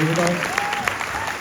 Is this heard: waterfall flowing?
no